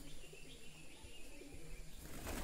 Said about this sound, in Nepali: जताततै परेवै परेवा